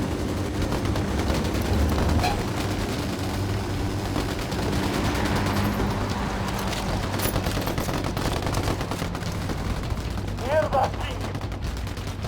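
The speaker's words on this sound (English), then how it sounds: "I'm opening fire." Sustained gunfire in Ghost Recon Wildlands, a dense rattle of rifle shots and bursts that runs throughout at steady loudness over a low rumbling backdrop, with faint radio-like voices.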